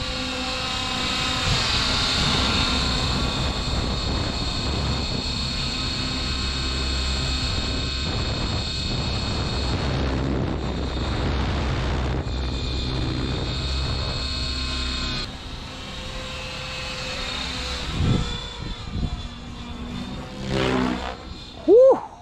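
An Align T-Rex 550X RC helicopter flies nearby, its rotor and motor producing a loud, steady high whine with tonal hum that wavers as it maneuvers, fading somewhat toward the end with brief bursts.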